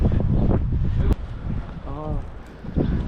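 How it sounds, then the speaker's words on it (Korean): Strong seaside wind buffets the microphone in low rumbling gusts on a sunny afternoon by the sea, with people talking over it throughout. "아 바람 좀 덜 불어야 되는데"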